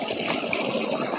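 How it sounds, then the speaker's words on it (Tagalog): Water from a spring flowing steadily outdoors, a close, continuous broadband rush and trickle with no pauses. "buhay po talaga digdian tubig."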